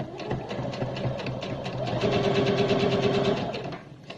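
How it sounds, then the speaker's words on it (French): A sewing machine runs a straight seam on a fabric face mask after a small backstitch, a close, steady rapid mechanical chatter that speeds up slightly midway, then stops near the end, with no talking. "Je fais un petit point d'arrêt et je relance ma couture droite."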